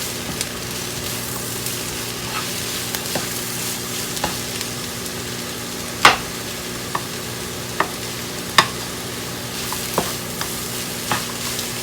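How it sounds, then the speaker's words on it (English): Vegetables sauté in a pan for a quinoa rice chicken bowl, with a steady close sizzle and occasional sharp clicks of a utensil stirring against the pan. "I'm going to continue to saute these"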